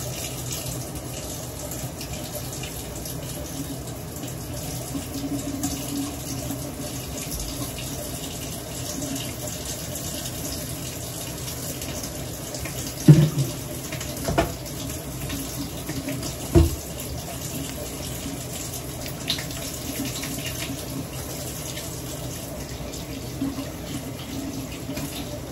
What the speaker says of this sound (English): Okay, so let me wash my hands.